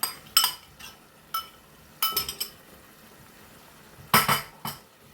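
A spoon clinks against a pot or bowl while paste is stirred into gongura chicken pickle, a few sharp scattered metallic taps with quiet gaps between them, close by and alone.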